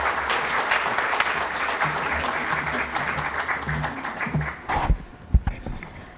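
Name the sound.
audience applause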